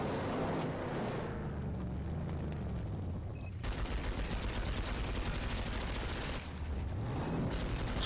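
Dense bursts of rapid gunfire in the video game Rage 2 rattle almost continuously over a loud rumbling engine drone, with a brief break near the middle.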